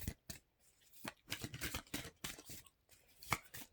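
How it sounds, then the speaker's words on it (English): Large tarot cards being shuffled by hand, a run of crisp papery riffles and slaps in uneven bursts, close and fairly quiet, with no voices. "It's hard to shuffle them."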